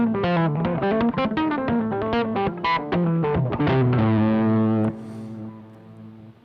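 Fast picked electric guitar run through heavy extra distortion, rapid notes climbing then ending on a ringing sustained chord that fades, played alone.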